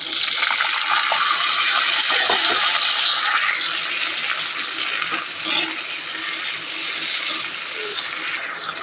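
String beans and potatoes hit hot mustard oil with fried dried chilies in a wok, a loud, bright sizzle that bursts up and then settles into a steady crackling fry.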